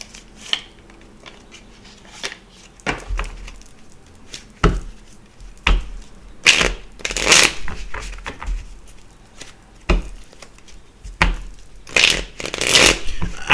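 A deck of cards being shuffled by hand, irregular riffling and slapping bursts that come closer and louder toward the end, with no voices over them.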